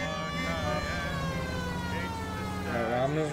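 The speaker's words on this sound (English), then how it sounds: "Oh, we got a siren too." A police siren wails in the 1940s Los Angeles video game LA Noire, a loud continuous rising-and-falling tone with car engine noise underneath.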